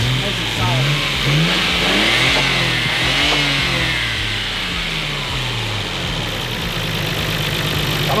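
A Nissan Skyline R33 engine runs nearby with a steady, rumbling idle and a few light revs rising and falling over the sound of the running motor.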